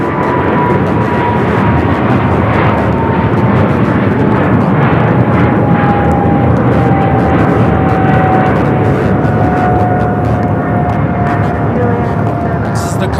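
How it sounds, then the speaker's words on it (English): A Boeing 777 freighter takes off at LAX, its jet engines roaring as a loud, steady broadband rumble with a slowly falling whine throughout, while radio chatter and voices talk over it. "This is the Cargo King, Flight 222, taking off to Shanghai, 777 freighter."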